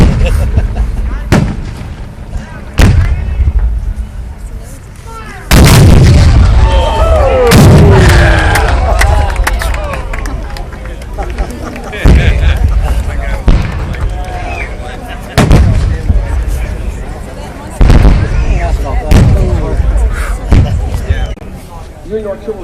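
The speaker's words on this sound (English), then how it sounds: "Union artillery off the cemetery ridge" Cannon artillery fire at a Gettysburg 150th anniversary reenactment, with Union guns on Cemetery Ridge: loud, booming reports repeat every few seconds, each rolling away in a long echo across open ground.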